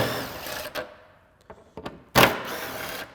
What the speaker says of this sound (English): There's two T40 fasteners here we're going to remove.